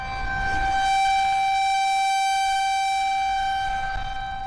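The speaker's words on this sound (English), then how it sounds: "Tornado sirens are tested monthly in many areas." A tornado warning siren sounds during a routine test, holding a steady, loud tonal wail for several seconds with little change in pitch, and no voices.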